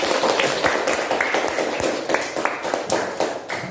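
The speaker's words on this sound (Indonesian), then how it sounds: "Kasih tepuk tangan dulu." Classroom applause in an Indonesian language lesson, a scattered group clapping with irregular taps and slaps that fade slightly toward the end.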